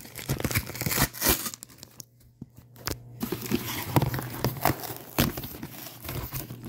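VHS tape packaging is ripped open by hand, with sharp tearing bursts and crinkling plastic coming close and moderately loud, separated by a brief quiet pause.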